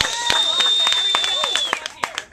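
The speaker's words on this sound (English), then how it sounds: "Let's give a round of applause to how brave those fucking people were." Comedy show audience breaking into applause, dense clapping with whoops and cheers right up close, then thinning into a few scattered claps at the end.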